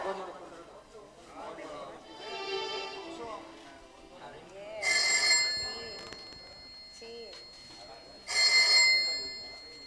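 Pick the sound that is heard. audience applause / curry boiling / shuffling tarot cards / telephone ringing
telephone ringing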